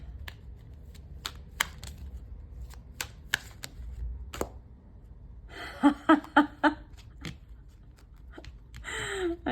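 Wisdom of the Oracle cards are shuffled and drawn, sparse dry taps and flicks giving way to a short burst of riffling card shuffles, close and fairly quiet, with a brief faint voice near the end.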